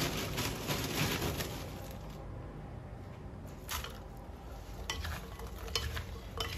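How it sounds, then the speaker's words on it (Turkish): A chocolate and walnut mixture being stirred with steady scraping and sloshing strokes in a bowl, continuous and close, with no talking. "Karıştırıyorum."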